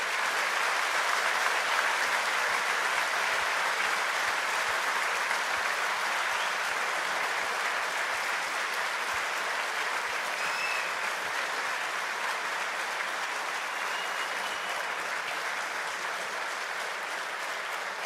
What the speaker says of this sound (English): give them a big hand of applause for all the support